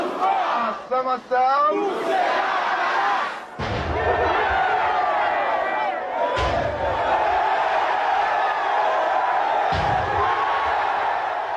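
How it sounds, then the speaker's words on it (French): A frenzied crowd roars and chants in acclaim of Jean-Bertrand Aristide at a political rally, a dense sustained wall of voices with shouts and thumps, after a brief spoken word at the start. "La foule en délire acclame celui qu'elle considère comme son messie."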